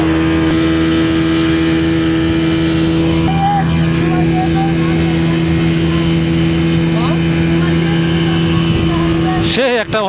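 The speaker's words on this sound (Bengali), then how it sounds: "সেই স্পিড বোটে আমরা এখন চলে যাচ্ছি মহেশখালী" A speedboat runs at sea off Cox's Bazar toward Maheshkhali, its loud outboard motor droning steadily at close range with rushing wind and water. Voices speak over the engine noise.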